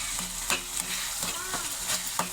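Dried red chillies and urad dal fry in a pan with a steady sizzle, broken by regular scraping strokes as the mix is stirred. Close and fairly quiet, with no talking.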